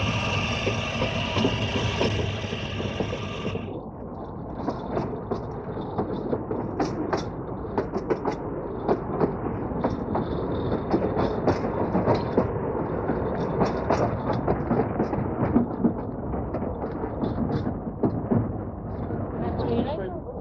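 A narrow gauge train on the Festiniog railway in Wales runs with a steady chugging rumble and rattling, clanking wheels throughout, while a narrator talks over it in an old travel film.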